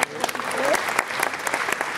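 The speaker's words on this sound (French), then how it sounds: "Voilà, on peut les applaudir encore." Audience applauding at an award ceremony for a food innovation prize, brisk clapping with a few crowd voices and sharp individual claps over two seconds.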